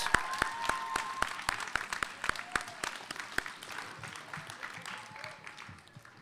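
Audience applause at a grade 11/12 spoken word poetry event, steady dense clapping with sharp individual claps standing out, moderately loud throughout.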